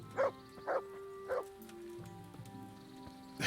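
Dogs bark in Kingdom Come: Deliverance, three distinct barks in quick succession followed by softer yips and whimpers over a low background hum, moderately loud and mid-distance, with no talking.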